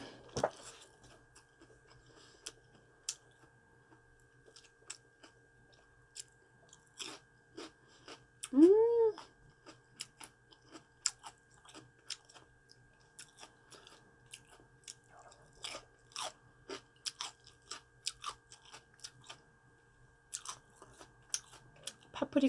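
Plump, sweet raw paprika is bitten and chewed close up, giving a long run of crisp, wet crunches in uneven bursts with a short vocal sound partway through.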